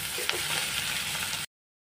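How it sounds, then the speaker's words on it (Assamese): Ginger fries with onion and garlic in a pan for chicken curry, a dense steady sizzle close up that cuts off abruptly after about a second and a half. "পিঁয়াজ নহৰুখিনি ভাজি ল'লোঁ আৰু তাতে দি দিলোঁ একটুকুৰা আদা আদাখিনিও অলপ ভাজি লওঁ"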